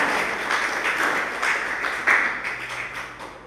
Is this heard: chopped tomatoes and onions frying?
no